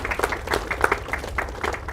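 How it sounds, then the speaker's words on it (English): Audience members at a web engineering meetup in Chennai clapping, with scattered uneven hand claps close to the microphone over a low room rumble and no steady crowd roar. "Guys, let's clap for this guy now."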